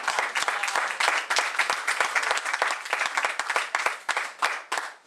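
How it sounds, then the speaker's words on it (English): Church congregation applauding during a sermon, dense steady clapping from many hands filling the room, fairly loud and continuous with no speech over it. "Yeah, you can clap."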